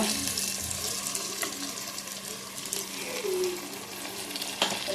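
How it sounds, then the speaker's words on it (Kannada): Curry ingredients fry in hot oil in a pan for a Mangalore-style buthai (sardine) curry, a steady close sizzle with occasional stirring scrapes and light clinks running through. "ಚೆನ್ನಾಗಿ ಫ್ರೈ ಆಗಲಿ"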